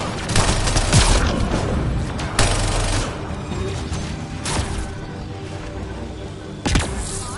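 Gunfire in the sci-fi shooter Mass Effect Andromeda, with loud bursts of rapid shots and heavy booming impacts, separated by short lulls of lower battle noise.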